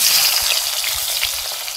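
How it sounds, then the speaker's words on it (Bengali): Nigella seeds dropped into hot oil left from frying katla fish crackle and sizzle loudly and close, a dense continuous hiss with faint stirring, no voices. "এইবার তেলে, সেই মাছ ভাজার তেলে কালো জিরে ফোড়নটা দিয়ে দিচ্ছি।"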